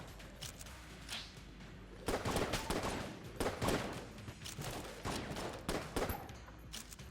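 Rapid bursts of gunfire from the twin-stick shooter Enter the Gungeon, rattling volleys that pulse in loud clusters with short gaps, quieter at the start and intensifying midway.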